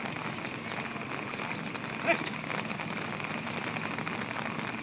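A steady patter of rain falls on a surface at a farm in Konkan, even and continuous, with one brief knock partway through.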